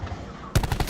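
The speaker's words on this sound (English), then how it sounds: "it doesn't have that almost like a realistic sound to the gunshots and stuff" Gunfire in the Call of Duty Black Ops 4 Blackout battle royale game on Xbox One X: after a quiet moment, a quick burst of several rapid shots rings out close and loud.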